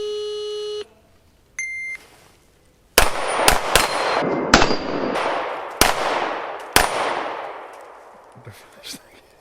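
A string of loud, sharp gunshots from shooters running a timed course of fire on a range while testing a weapon-mounted light, six or so cracks over a few seconds after an electronic timer beep, each with a short decaying tail.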